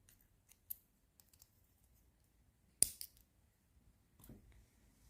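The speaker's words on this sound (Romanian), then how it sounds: "Tăiem firul." Scissors snip through knitting yarn when finishing a seed-stitch baby beanie, a single crisp cut standing out from a quiet room with faint handling clicks before and after.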